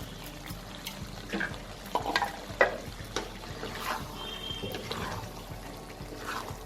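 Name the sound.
mixed vegetable curry being stirred in a pan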